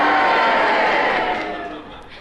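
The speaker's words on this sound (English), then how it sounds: "Yes, I think the cheers have it" A studio audience cheering loudly in a large, dense roar of many voices that gradually fades away.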